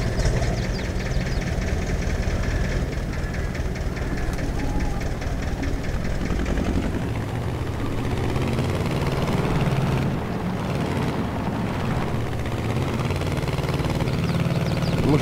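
A tractor engine in Farming Simulator 22, a steady low rumbling drone with a continuous mechanical hum, close and even throughout, shifting slightly in tone midway.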